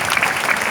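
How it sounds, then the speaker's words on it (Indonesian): Dense, continuous applause from an audience at a Nahdlatul Ulama religious gathering, filling the whole short moment with loud clapping. "Beri tepuk tangan pada NU."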